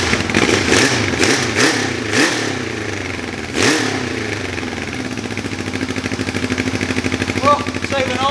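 An old Honda CBX 750 or XJ 650 motorcycle engine cranks and catches with a few uneven bursts, then settles into a steady, loud, close idle with a rapid even beat.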